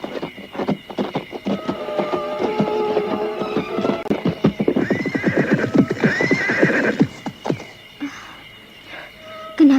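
Horses clip-clop steadily along a path with repeated neighs and whinnies, close and fairly loud, the hoofbeats dense through most of the stretch before thinning near the end.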